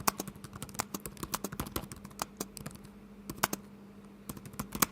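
Keys tapped on the laptop keyboard of a Huawei MateBook X Pro 2024, crisp, close clicks in an irregular stream with a few louder strokes over faint background hum.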